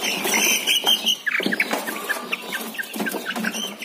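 Broiler chickens cluck and squawk close by, busy overlapping calls with a steady background din, no talking.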